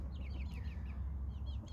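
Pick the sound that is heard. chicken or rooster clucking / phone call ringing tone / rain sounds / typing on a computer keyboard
chicken or rooster clucking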